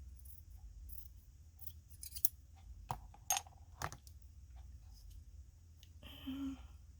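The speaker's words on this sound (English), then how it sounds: "Here are my scissors." A few crisp scissor snips cutting sheer fabric in a quiet room, spaced apart, followed by a soft rustling.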